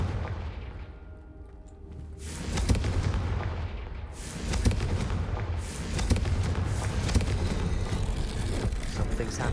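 Confringo fire spell blasts in Hogwarts Legacy: a rumbling backdrop breaks into repeated loud booming bursts and crackling impacts, layered over sustained roaring combat noise.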